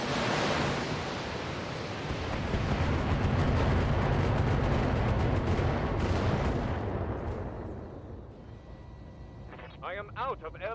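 LRM missile salvo fired by a mech in the BattleTech Extended 3025 mod, a loud sustained rushing roar of launches and impacts that swells then fades, with a voice speaking briefly near the end.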